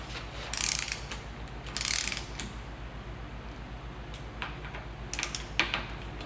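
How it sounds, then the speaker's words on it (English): Torque wrench ratcheting while tightening bicycle saddle bolts, a quiet, close series of rapid mechanical clicks with a few louder bursts, no speech. "change over to my torque wrench"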